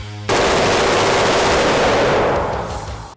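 A rifle fires on full auto at a shooting range, producing one sustained, loud, rapid burst of gunshots lasting nearly three seconds before stopping abruptly.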